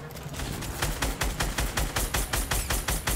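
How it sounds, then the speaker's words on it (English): Gunfire in the video game Fortnite rattles in a rapid, evenly spaced string of loud shots that runs for a few seconds without pause. "I don't know what I'm shooting"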